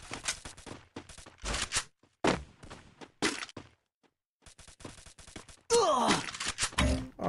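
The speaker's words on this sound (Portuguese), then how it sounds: "Sei nem de onde tô tomando tiro." Gunfire rings out in a ranked match of the video game Counter-Strike, coming in several loud, sharp bursts and rapid volleys separated by short pauses, with a denser, louder burst near the end.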